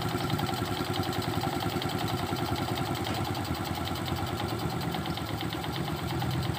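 A carburetor engine idling with its idle setting turned too low, a steady, fairly quiet mechanical chug that keeps running evenly throughout with no talking.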